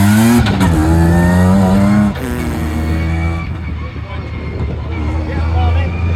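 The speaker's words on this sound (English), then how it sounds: "but Stu is about to take out his S54 car, so let's see how it goes" BMW E36 drift car with an S54 engine revving hard on a track, a loud rising engine note that drops off and fades as it pulls away, voices faintly beneath.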